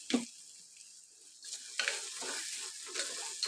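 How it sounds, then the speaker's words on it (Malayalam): Masala being sautéed in a pan for a tuna fish curry, soft stirring scrapes and gentle sizzling rising after a quiet start, close and moderate in level with no talk. "നല്ലപോലെ പച്ച പച്ചമണം മാറുന്നത് വരെ വഴറ്റി കൊടുക്കുക"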